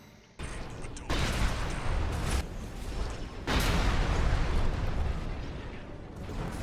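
Heavy explosions and weapon fire as a tester AC mech is destroyed in the video game Armored Core VI, a sustained roaring barrage in long loud bursts with brief drops between.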